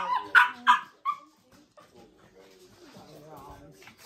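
Dogs give a few quick close barks and yips at the start, followed by fainter whimpering sounds while people talk quietly nearby.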